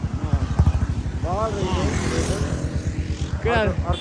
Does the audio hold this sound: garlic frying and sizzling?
no